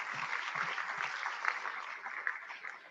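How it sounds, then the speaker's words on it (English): Audience applause at an evening school board of education meeting honoring student athletes, dense and continuous clapping from a crowd filling the room at steady loudness throughout, with no talking. "So let's give them all a nice round of applause just for being back out there."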